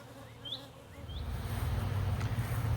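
Honeybees swarm around a bait trap outdoors, a low droning hum that swells in after about a second and grows into a steady, close buzz, with a couple of faint bird chirps early on.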